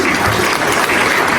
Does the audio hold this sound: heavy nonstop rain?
no